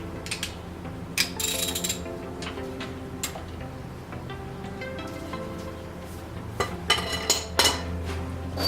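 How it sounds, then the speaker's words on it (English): A ratchet fitted with an E18 socket clicks on a car's front strut bolt during a strut replacement: bursts of rapid, close metallic ratcheting with a few clanks of tools between them, and no talking. "a 21mm socket for the back, and then I have an E18 socket for the bolt."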